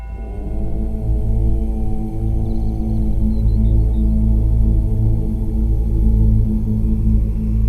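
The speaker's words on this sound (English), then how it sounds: "at the gong we exhale with an Om" A gong struck once during a guided breathwork session rings out from the start, its deep, loud, sustained tones lingering and slowly fading across the whole stretch, with no talking over it.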